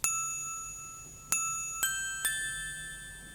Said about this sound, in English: next one is a bell melody